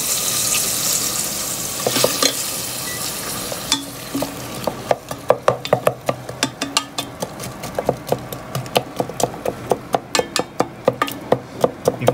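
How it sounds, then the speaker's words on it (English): Onions and garlic frying in a pan for Japanese curry, a steady close sizzle broken by a quick run of sharp spatula scrapes and clacks against the pan, no talk. "Now I'm going to fry up the vegetables. In go the onions, and I added some garlic."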